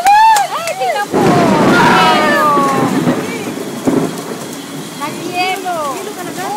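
Hail pours down during a thunderstorm in the Philippines, a loud, dense, continuous clatter with rumbling beneath while people talk over it.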